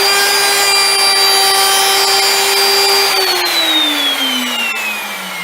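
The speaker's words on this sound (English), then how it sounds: "We have to be gentle with the router, gentle." A wood router cuts into a tabletop arcade control board, its loud, steady high whine holding for a few seconds before the motor pitch sags downward as it winds down or bogs, close and alone without talk.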